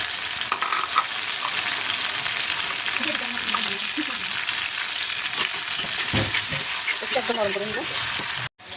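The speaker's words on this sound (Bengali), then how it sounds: "তো এই যে তেল দিয়ে দিয়েছি আমি পেঁয়াজ দিচ্ছি" Onions frying in oil in a pan for a spicy dried-fish dish, a steady bright sizzle throughout with occasional stirring scrapes and a brief voice in the background near the end.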